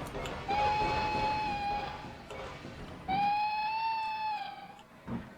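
A steam-style train whistle in the Trainz Railroad Simulator 2019 video game, on a Cornish main line: two long, tonal whistle blasts, the second slightly higher, over a low rumble of rail noise.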